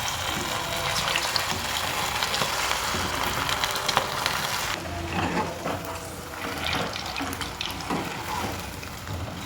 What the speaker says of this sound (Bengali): এরপর তেলের মধ্যে একটা একটা করে চিকেন ছেড়ে দিচ্ছি।